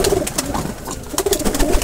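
Parent Teddy breed pigeons coo in low, throaty, repeated murmurs, several birds overlapping nearby with a steady rolling rhythm and some rustling in the background.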